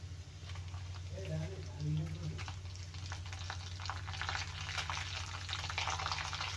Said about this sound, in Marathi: तर याला छान थोडासा गोल्डन कलर येईपर्यंत आपल्याला भाजून घ्यायचं आहे